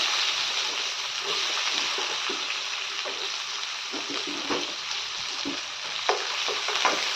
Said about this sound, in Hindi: इसमें अब मैं जीरा डालती हूँ, 2 खड़ा मिर्चा डाल देती हूँ। उसके बाद में 5-6 कलियां लहसुन का और बारीक कटा हुआ प्याज।